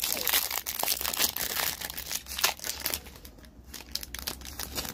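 Plastic wrapper of a Pokemon card pack being torn and crinkled open close by, a continuous crackling rustle lasting several seconds.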